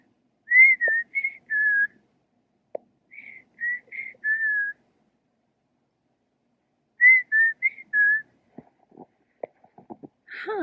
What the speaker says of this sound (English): I'm not sure what kind of bird that is, but that's such a pretty noise.